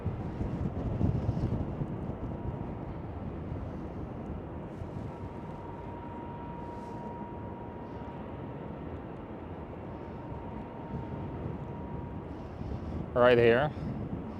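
An Iberia Express Airbus A320neo airliner rumbles as a broad, steady roar at Schiphol, blended with gusty wind buffeting the microphone, while a person talks briefly near the end.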